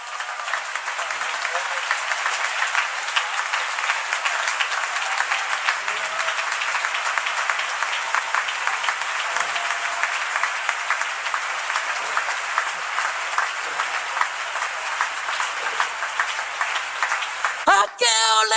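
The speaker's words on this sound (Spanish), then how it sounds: "Si ese aplauso es para Dios, de lo más fuerte." A church congregation applauds loudly and steadily for the whole stretch, a dense, sustained wash of many hands clapping together, with a sharp cut near the end.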